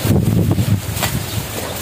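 Wind gusts steadily across an open outdoor spot where fresh fish is being grilled, a continuous rushing buffet against the microphone with no voices.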